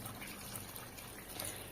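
Two tumblers of water pour steadily into a cooking pot of sundakkai kuzhambu, a soft continuous splashing and trickling with no voices.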